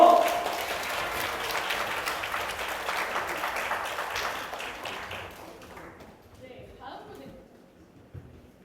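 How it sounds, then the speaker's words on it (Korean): An audience at a study concert lecture claps loudly for several seconds, then the applause thins and fades out, with a little talk near the end. "큰 박수 한번 부탁드릴게요"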